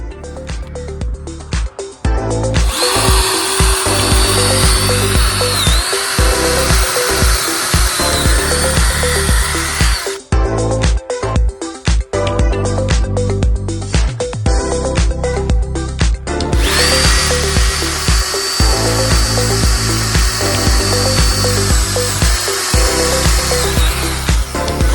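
A power drill bores through boat fiberglass in two long, loud, continuous runs, with choppy stop-start bursts between them and no talking.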